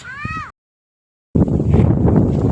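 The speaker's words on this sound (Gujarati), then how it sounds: "ઠંડો ઠંડો પવન છે" Loud cold wind rumbling and buffeting the microphone after a brief gap of silence, with a short high voice at the very start.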